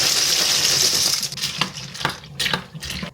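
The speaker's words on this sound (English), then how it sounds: "And then we're going to go ahead and just add our pasta." Dry pasta pours into a pot of salted water, first as a dense hissing rattle, then a few separate clinking pieces drop in one after another, close and fairly loud.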